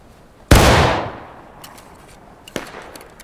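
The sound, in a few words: rifle shots in War of Rights video game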